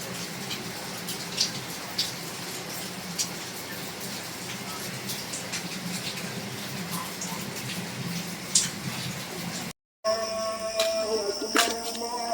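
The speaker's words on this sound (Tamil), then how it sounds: "நல்லா மழை." Steady, dense rainfall hisses outdoors on a road trip around Valparai, with scattered sharper drops and splashes, a short dropout, then rain continuing with some background noise.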